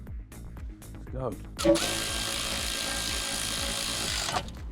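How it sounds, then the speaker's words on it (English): Brief talk and clanks, then a power tool on an Audi Q8 wheel during brake pad replacement whirs loudly and steadily for several seconds before winding down. "We're using the power tool for this one."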